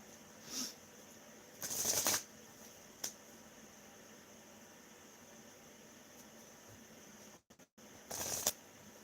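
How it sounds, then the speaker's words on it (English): A deck of playing cards being shuffled: three short riffling bursts, soft and fairly distant, separated by quiet room hiss. "Nice to get back to shuffling again."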